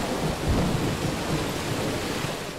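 Steady heavy rain with low rumbling thunder rolling underneath in the video game Modern Warfare 2, a dense, continuous wash of sound with no voices.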